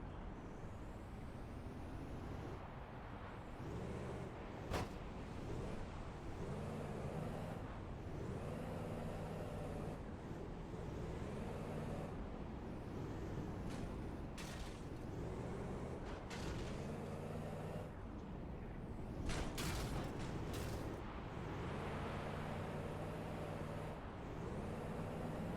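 A junk-built truck in the video game JunkPunk drives continuously with a rumbling, wavering engine drone, punctuated by occasional clanks and bangs as it rolls over rough ground, loud and close throughout.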